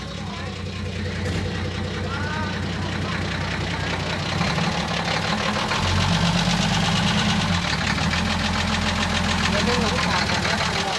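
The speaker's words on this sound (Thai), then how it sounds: "เดี๋ยวบอกพี่โอ๊ตเอารถออกก่อน" A Hino KR truck's diesel engine idles close by, a loud, steady knocking rumble that runs throughout with only slight swells, with voices talking over it.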